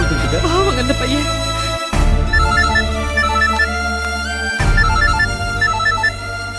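A phone ringtone plays a repeating electronic melody in short bursts, loud and close, broken by brief pauses between rings, over a sustained musical background.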